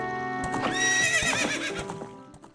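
A video game horse gives a loud, shaky neigh with rising and falling pitch, while hoof clip-clops and light thuds sound beneath it. No voices are heard.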